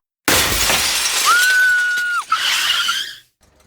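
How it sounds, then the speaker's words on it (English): A car's rear window shattering as a sound effect, one loud sudden burst of breaking glass with a bright sustained ring, then scattering fragments that fade out within about three seconds. "Suddenly, something struck the back of my car, shattering the rear window."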